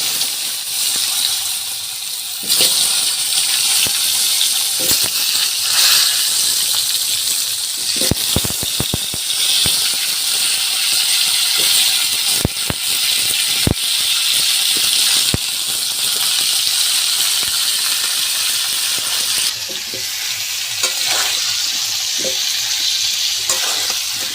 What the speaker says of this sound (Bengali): আমি লাল লাল করে ভেজে নিচ্ছি